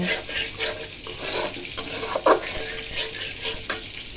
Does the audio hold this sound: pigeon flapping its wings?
no